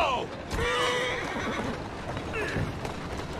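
A horse neighs and whinnies in the Victorian London setting of the video game Assassin's Creed Syndicate, with clip-clop hooves and a voice talking over the middle of the clip.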